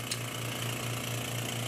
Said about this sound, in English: basically right now you're pumping air, your solenoid valve is open